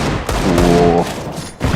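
Gunfire from a Counter-Strike pro match at DreamHack Masters Winter 2020 rings out as a loud, close burst of shots layered over dense game sound, with a ringing tonal stretch in the middle of the burst.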